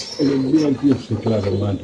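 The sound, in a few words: pigeons cooing at pigeon farm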